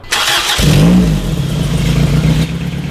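A car engine starts and revs up loudly nearby, then settles into a steady idle with a low rumbling hum.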